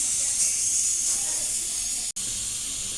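A constant hissing, steamy rush of spinach boiling in a pot on a strong boil, broken by one abrupt instant of silence.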